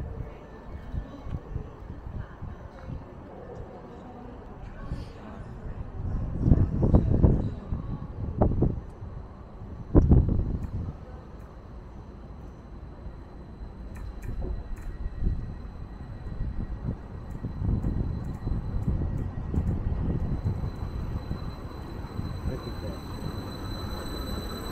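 A small train approaches in Cardiff, Wales, with a low rumble that swells and fades under steady wind noise outdoors. A sharp clunk comes partway through.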